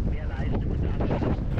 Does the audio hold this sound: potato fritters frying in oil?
no